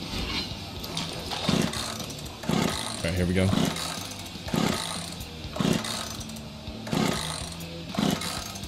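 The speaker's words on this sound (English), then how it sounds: "my chat will see what happens if you chainsaw a tree" Chainsaw in a video game biting into a tree, a repeating run of rough revving bursts about once a second over a steady engine drone, with someone talking over it.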